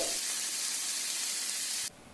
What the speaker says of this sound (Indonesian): Aduk kembali sampai bumbunya tercampur rata.